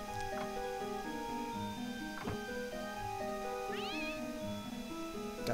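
A cat meows in the video game Secret of Evermore, a short bright rising call heard once over looping, plinking game music that plays steadily throughout.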